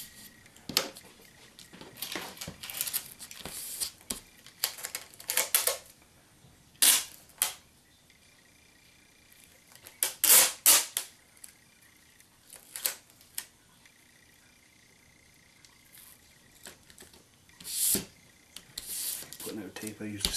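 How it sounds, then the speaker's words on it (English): Clear tape is pulled off the roll in short, sharp rips during a drone build, with irregular crackling bursts scattered across a quiet background and several louder tearing strips. "Putting out tape, I usually start in the middle"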